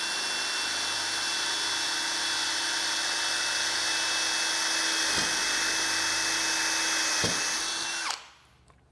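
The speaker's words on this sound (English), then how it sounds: "then I'm just going to drill straight through" Power drill boring straight through material for an M3 socket head screw hole on a glass cutting jig, a loud steady whine held for about eight seconds with two brief load dips before spinning down.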